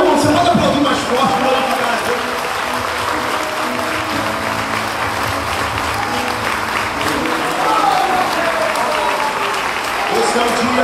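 A church congregation at a Baptist church anniversary service applauding loudly and continuously from close by, a dense steady roar of clapping with voices mixed in.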